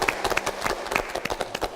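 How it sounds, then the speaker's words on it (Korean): Scattered clapping from an audience at a Korean community event, a handful of separate claps at close range, short and moderately quiet. "박수 한번 드릴까요?"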